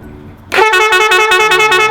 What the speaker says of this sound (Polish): a to jest moja trąbka